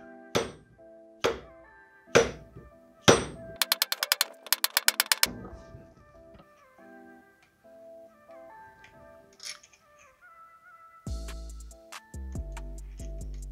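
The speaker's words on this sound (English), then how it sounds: "Use the good old rubber mallet." Rubber mallet tapping a Honda TRX250R engine case, several distinct dull knocks followed by a quick run of rapid taps, then metallic clinks and a final burst of louder hits.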